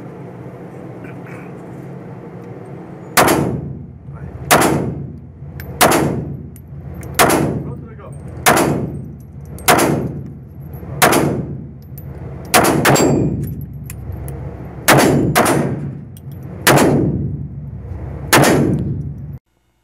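A Taurus pistol being test-fired: about eleven loud, sharp gunshots at a slow, even pace of roughly one every one to two seconds, each leaving a short ringing decay, close up over a steady background hum.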